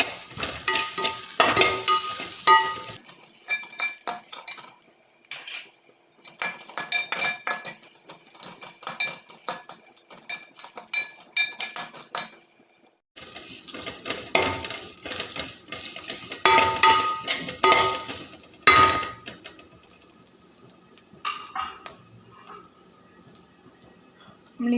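Ground garlic goes into a frying pan for a Kerala-style tapioca dish, with a continuous sizzle and frequent sharp clinks and scrapes of a metal spoon against the pan, close and busy throughout, with no talk.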